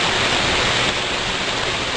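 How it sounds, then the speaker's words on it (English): Water rushes steadily through a patented curb drainage filter, a loud, continuous broadband flow with no breaks and no voices. "the filter, although it is allowing the water to pass, is not presenting that much of an obstacle"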